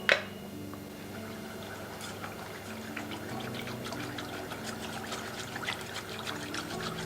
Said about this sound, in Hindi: तो अभी हम इसमें ठंडा पानी डालेगा।